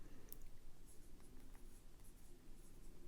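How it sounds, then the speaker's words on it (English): A Jinhao 10 fountain pen with a fine nib writing on paper, a soft continuous scratching with faint strokes, close and quiet with no talk. "let's go ahead and do a little test. Ooh, it's very, what? Is this a fine nib? Yeah, I got a fine nib, and it's coming out very wet."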